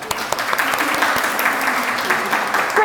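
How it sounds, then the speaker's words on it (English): A small group claps along during a children's story, producing brisk, close hand-clapping with sharp individual claps and some voices mixed in. "Let's clap our hands to encourage him and lend him some of our strength."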